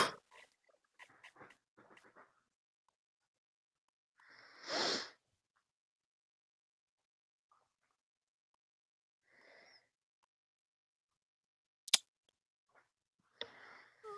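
One short, sharp sneeze near the middle of a quiet stretch, surrounded by faint clicks and small noises.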